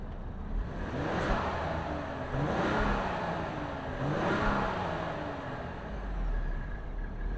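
2025 Ford Explorer Platinum SUV with a high-output twin-turbo EcoBoost V6 accelerating, its engine rising in pitch through several gear pulls, moderately loud and continuous.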